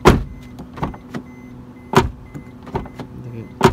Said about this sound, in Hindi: पहले डोर का आवाज़ इसको सुना देते हैं।